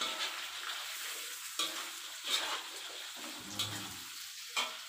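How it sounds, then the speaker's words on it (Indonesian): Chopped bell pepper being stirred in a hot pan, a soft, quiet sizzle with a few distinct scraping strokes spaced through the stretch, close but faint, no voices. "Kita balik-balik lombok paprika yang sudah"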